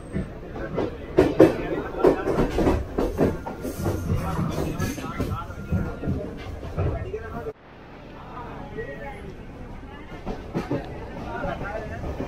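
A regular passenger train runs from Colombo to Kandy in Sri Lanka, with rattling wheels, clickety-clack and a steady rumble heard from inside the carriage while someone talks over the noise.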